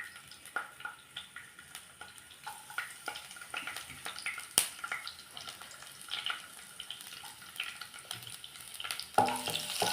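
Shallots frying in oil keep up a soft sizzle broken by irregular crackles and stirring clicks, fairly quiet and close, with no talking.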